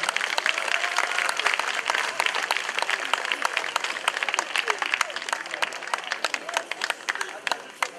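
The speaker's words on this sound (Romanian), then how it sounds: "în aplauze dumneavoastră, mulțumim, Oana!" An audience at an outdoor folk stage applauds the Dunav ensemble of Serbian performers from Svinița, Mehedinți, with dense clapping and distinct sharp individual claps, a presenter's voice running over it.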